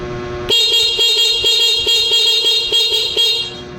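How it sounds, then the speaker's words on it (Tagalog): A stock Honda Beat scooter horn honks steadily for about three seconds, a bright buzzing tone with a rapid pulsing flutter, close and loud. "pag nasa taas yan, stock na busina"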